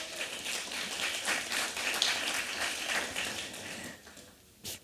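Audience at a community forum event clapping for an organizer, a soft scattered round of applause lasting several seconds, fairly faint and distant, ending with a brief louder burst.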